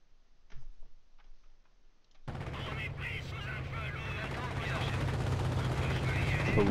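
Sustained gunfire in the WWII strategy game Company of Heroes, set at Arnhem during Operation Market-Garden: after a quiet opening with faint ticks, a dense continuous battle din of shots and rumble starts abruptly and grows louder, with a voice talking over it.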